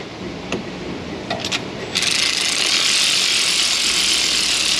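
A ratchet runs spark plugs down their threads on a 2000 Chevrolet Silverado 1500 with the 5.3 engine and a misfire, giving a few sharp clicks followed by a steady, close rasping whir.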